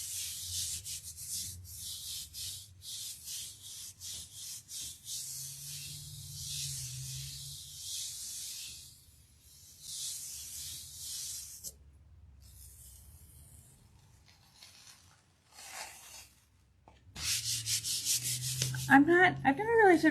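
Paper is rubbed firmly by hand onto a Gelli printing plate coated in PaperArtsy acrylic paint, giving soft, quiet, continuous scratchy strokes in bursts with short pauses between them.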